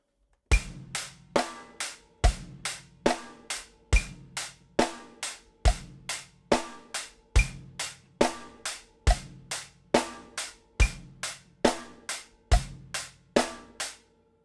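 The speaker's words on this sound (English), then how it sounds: "Now I'll progress to playing eighth notes on my hi-hats." A drum kit plays a steady groove with hi-hats ticking on every eighth note, kick and snare alternating underneath; close and clear, no talking.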